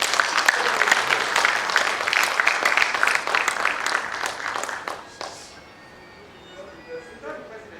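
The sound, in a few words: audience applause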